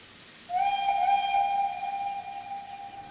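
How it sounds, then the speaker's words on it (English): A steam locomotive whistle sounds from a distance, one long sustained tone that starts abruptly and slowly fades, alone over faint background hiss. "the silver saddle tank heard an unfamiliar whistle off in the distance"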